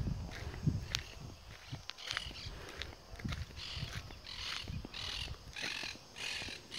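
Birds call and squawk intermittently outdoors on a quiet Sunday morning in Spain, faint and somewhat distant, with rustling and a few footstep-like sounds close by.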